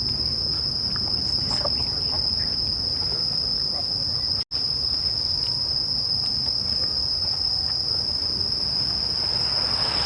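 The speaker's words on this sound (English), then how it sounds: "now it's time for the crickets to chirp, make their orchestra at night." Crickets chirp at night in Toyama Park in a loud, continuous high-pitched trill that runs unbroken over a low background rumble, dropping out for an instant midway.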